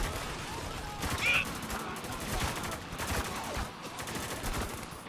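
Rapid bursts of gunfire from the third-person shooter Spec Ops: The Line crackle steadily through the whole stretch, dense and continuous like a firefight, with a brief high whistle-like streak early on.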